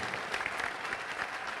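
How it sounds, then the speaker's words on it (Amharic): A church congregation breaks into steady applause, a dense continuous wash of many hands clapping at once with no single claps standing out, mid-distance and even in level throughout. "ለጌታ ክብር አጨብጭቡ እንጂ።"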